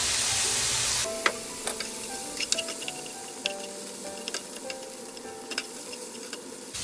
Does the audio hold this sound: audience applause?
no